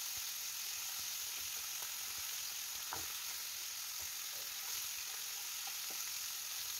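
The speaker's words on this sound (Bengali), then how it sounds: "আরও কিছুক্ষণ ভালোভাবে ভেজে নেব, যাতে ভিতরের অংশটাও খুব ভালোভাবে ভাজা হয়ে যায়" A fish head fries in hot oil for a Bengali muri ghonto, with a steady, dense sizzle throughout. Occasional sharper pops and crackles rise from the pan.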